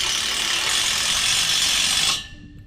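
A tek screw is driven into greenhouse exhaust fan framing, a loud, close, steady grinding whir lasting about two seconds before stopping abruptly.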